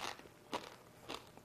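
A crunchy homemade chip dipped in hot, cheesy onion dip is bitten close up, giving two sharp crunches about half a second apart amid faint crackles.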